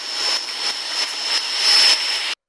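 A fan recorded right against a phone microphone gives a close, roaring airy rush with a steady high whine and slight pulsing, ending abruptly.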